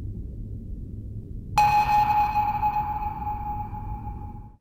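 A single submarine sonar ping sound effect strikes sharply over a low rumbling underwater bed, its bright tone ringing out and slowly decaying over several seconds.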